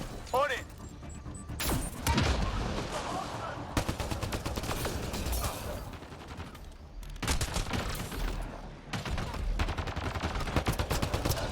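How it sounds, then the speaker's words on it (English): Repeated bursts of gunfire from blind-firing in Mass Effect: Andromeda, loud and crackling in several volleys with brief gaps, mixed with mechanical game noise. "Oh, hey, blind fire."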